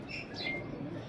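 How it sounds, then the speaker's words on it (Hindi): Pigeons of the Mehr Asghar line kept by a fancier give soft cooing and chirping calls, close and steady through a brief stretch with no talk. "अब ये कबूतर जो हैं ये मेहर असगर साहब वाले कबूतर हैं"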